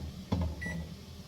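The control panel of a GE 4-in-1 convection air fryer oven gives a single short, high electronic beep just after a soft thud, quiet against a faint room hum.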